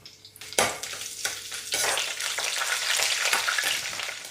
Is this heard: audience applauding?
no